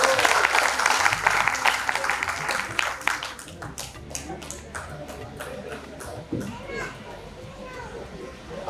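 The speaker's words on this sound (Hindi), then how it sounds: "निखिल जी, आप आइए, मंच पे आपका स्वागत है तालियों के साथ।" Audience applause welcoming a poet onto the stage at an all-India poetry gathering in Ayodhya, loud dense clapping at first that thins and fades over the following seconds as children's voices and murmuring carry on underneath.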